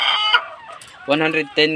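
Laying hens on a poultry farm cluck and call loudly nearby in several short, bursting notes with brief pauses between them.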